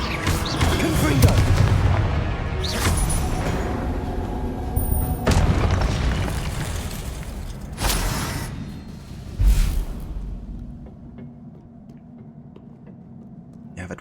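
Confringo spell explosions in Hogwarts Legacy burst in a rapid series of heavy booms and whooshes, loud and close, with a voice shouting spell names over them before the bangs fade out.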